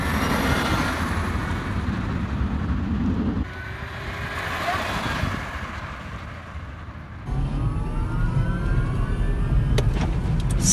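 A home-converted electric Mercedes B-Class running 300 volts on seven-year-old batteries drives in second gear, with steady road and motor rumble inside the cabin, a drop in level midway, then a rising whine as it pulls harder.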